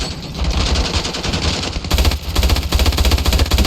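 G42 machine gun in the Ravenfield video game, fired in sustained rapid automatic bursts, loud and close with an even rhythm throughout and no voices.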